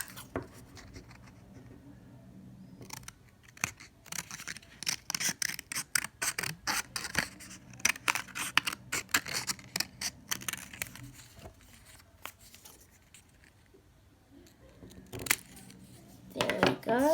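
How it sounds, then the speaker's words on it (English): Scissors snip and crunch through a rectangle of paper in quick, irregular cuts over several seconds, close and fairly quiet, with pauses between bursts of cutting. "We're gonna get our scissors and a rectangle piece of paper. We're just gonna quickly cut along the lines."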